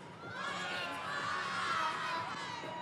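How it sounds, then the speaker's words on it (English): A dense arena crowd at an indoor soccer game between the Kansas City Comets and St. Louis Ambush yells and cheers continuously, a sustained roar of many voices at some distance. "Make some noise. Will you actually do this? Will you yell 25 in 3, 2, 1?"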